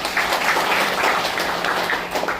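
Steady applause from members of a literary association at its 60th anniversary celebration in Ulsan, a dense, even wash of clapping from a hall audience with no talk over it.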